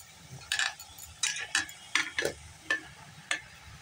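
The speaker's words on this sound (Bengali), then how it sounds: "একটু ভালো করে নেড়ে নেবো" Potato and pea curry stirred in a pan, about a dozen short scraping strokes in an uneven rhythm, close and fairly faint over a low background hiss.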